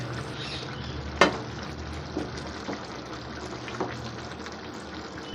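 Egg chilli gravy thickened with cornflour bubbles softly in a pan with a low, steady simmer, broken by a few faint pops and one sharper tap near the start.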